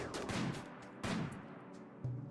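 Gunfire in the video game RimWorld, three separate bursts of shots spaced about a second apart, fairly faint and with no talking over them.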